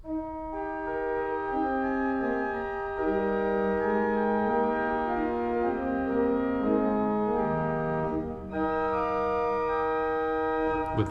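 An 1884 Roosevelt tracker pipe organ plays sustained chords on a diapason with a 4-foot octave added, bright steady tones shifting from chord to chord, loud and alone.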